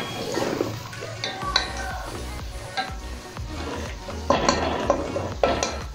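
Onions browning in a pot over high heat for Pakistani chicken biryani, with a spoon scraping and stirring against the metal in irregular close clatters over a steady low sizzle.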